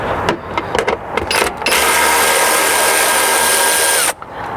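A power driver with a 10mm socket spins out a front bumper screw on a 2016-or-later Toyota Tacoma, starting with a few short bursts and then running in one loud continuous whir for about two seconds before stopping.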